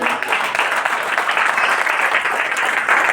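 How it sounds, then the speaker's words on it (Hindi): Loud audience applause fills the room, a dense continuous patter of many hands clapping for a few seconds with no speech over it. "एक बार जोरदार ताली।"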